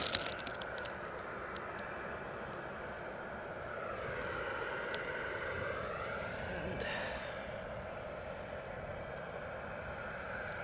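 A Ryanair airliner departing Edinburgh Airport for Porto gives a steady, loud jet roar with slowly bending engine whine that dips and rises as it passes, sustained throughout without fading.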